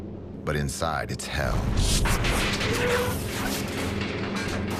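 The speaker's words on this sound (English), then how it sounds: "German anti-aircraft batteries unleash a barrage of flak" A WW2 anti-aircraft flak barrage rumbles as heavy, continuous booms and roaring bursts, with someone narrating over the loud, dense battle noise.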